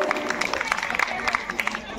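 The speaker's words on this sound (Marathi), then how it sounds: "टाळ्या वाजवायच्या सर्वांनी" An audience at a Women's Day event at the Saptashrungi Mata temple claps steadily in a dense patter of many hands, close and fairly loud, with a murmur of crowd noise underneath.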